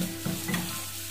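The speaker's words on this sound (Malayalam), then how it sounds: "ഒരു 5 മിനിറ്റ് എങ്കിലും എടുക്കും അത് മീഡിയം ഫ്ലെയിമിൽ നമുക്ക് ഇങ്ങനെ വറുത്തെടുക്കാനായിട്ട്." Pieces of tuna fry in oil over a medium flame for pickle, giving a steady, close sizzle with a brief stir partway through and no voices.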